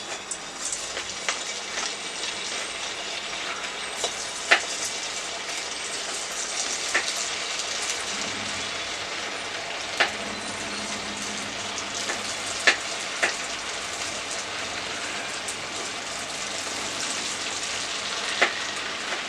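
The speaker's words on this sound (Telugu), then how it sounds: "బాల్స్ అన్నీ కూడా ఫ్రై చేసుకోవాలండి ఈ విధంగా బాల్స్ తీసుకుని ఆయిల్లో డిప్ చేసుకోవాలి" Cabbage Manchurian balls deep-fry in oil with a continuous, even bubbling sizzle, punctuated by a few sharp clicks and taps of a utensil against the pan.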